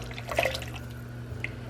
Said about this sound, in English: I'm gonna add some half and half.